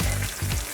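A T-bone steak on a GE Profile indoor smoker sizzles loudly and close right after being flipped, a dense hiss with two short pulses.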